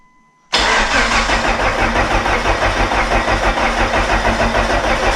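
A 25-year-old Dodge Neon ACR with a newly installed motor fires up abruptly after silence and settles into a loud, close, slightly rough idle that continues steadily.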